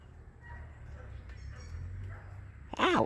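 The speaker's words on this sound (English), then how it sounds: "Thanks, Kevin, for barking in my ear." A dog gives a sharp bark or yip near the end, close and loud, after a low, busy background.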